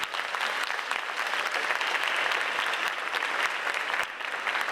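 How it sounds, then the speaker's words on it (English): Sustained audience applause at an 8th grade bridging ceremony, a steady, full roar of many hands clapping throughout. "Clap it up for Mr. Wiggins."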